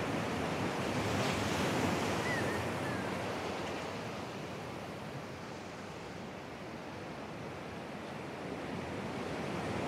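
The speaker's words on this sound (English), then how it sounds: "here comes a big wave" Large ocean waves break on rocks at Burleigh Heads, a loud, continuous roaring wash of surf that swells early and then settles into a steady rumble, with wind buffeting the microphone.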